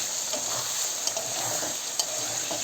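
Food with cumin powder being stirred in a frying pan, a soft steady sizzle under brisk scraping strokes of a spoon, with a couple of sharper clacks against the pan, no voices.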